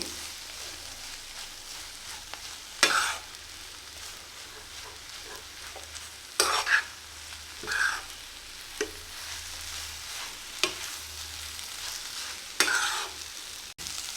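A spatula stirring egg and carrot palya frying in a pan, with a steady soft sizzle under several distinct scraping stir strokes spread across the clip, close and fairly quiet.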